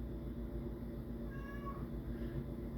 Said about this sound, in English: She's whining because I'm not paying attention to her.